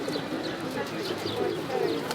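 Pigeons coo softly and repeatedly while a man feeds them, a low murmuring chorus of calls against steady background noise.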